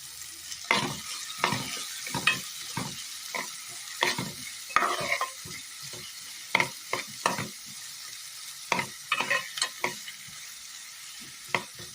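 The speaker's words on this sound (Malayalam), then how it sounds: "ആ എണ്ണയിലേക്ക് അല്പം കടുക് ഇട്ട് കൊടുക്കാം" Mustard seeds popping and onion with green chilli sizzling in hot oil, a soft continuous fry broken by repeated crisp crackles and stirring scrapes, close and alone with no talk.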